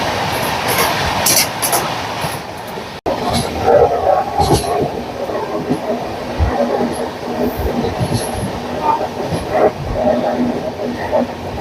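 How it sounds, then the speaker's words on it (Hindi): Train No. 22945 Mumbai Central–Okha Saurashtra Mail Express passes at a railway crossing, heard from aboard another train, with a loud continuous rumble, wheel clatter and a brief dropout, steady throughout. "अभी अपने सामने क्रॉसिंग के लिए आ रही है ट्रेन नंबर 22945 मुंबई सेंट्रल ओखा सौराष्ट्र मेल एक्सप्रेस"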